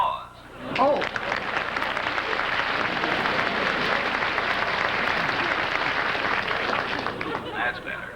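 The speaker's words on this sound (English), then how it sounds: "I'm waiting for my applause" Studio audience applause for a comedian on a 1972 broadcast, a broad sustained wash of clapping that swells quickly, holds steady and loud for several seconds, then thins out near the end, with a brief voice at the start.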